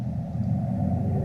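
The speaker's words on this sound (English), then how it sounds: "That's the sound of the mist." A low, steady rumble from the mist in the video game Mist Survival, a dark droning wash that holds evenly at moderate loudness throughout with no talking.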